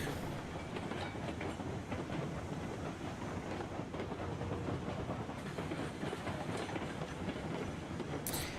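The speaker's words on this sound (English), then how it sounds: "So when a locomotive like this is shoving a heavy load like this around" A model locomotive shoving a string of boxcars along a layout track, giving a continuous close rumble with faint rhythmic clicking of wheels over rail joints and no pauses.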